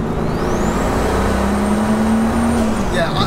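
A 900 kg carbon-bodied Mk1 Golf with a turbocharged R32 engine swap accelerates hard, its engine note rising steadily with a climbing turbo whistle over a loud cabin drone.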